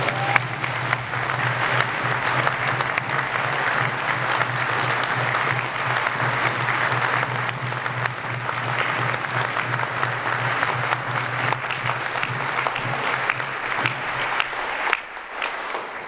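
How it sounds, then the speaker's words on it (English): Sustained, loud applause from a large audience at a university graduation ceremony, a continuous wash of clapping lasting about fifteen seconds, with a steady low hum underneath. "a huge, absolute huge round of applause"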